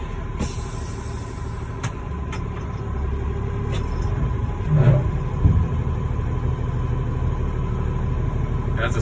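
A roll-off dumpster truck idles and revs at a quarry, its steady mid-pitched engine drone rising slightly midway, heard fairly close with outdoor background noise and no talk.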